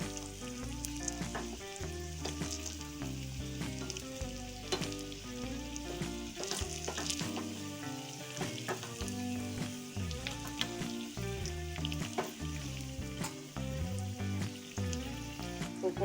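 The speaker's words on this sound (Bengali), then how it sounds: "পকোড়াগুলো আমার ভাজা হয়ে গেছে।" Pakoras frying in oil over low heat, a steady dense sizzle with soft bubbling and occasional stirring clicks, continuous and close throughout.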